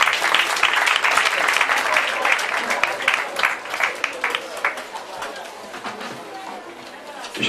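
An audience claps for a doctor after her speech at a children's charity partnership event, a dense round of applause that stays steady and loud, then slowly thins toward the end.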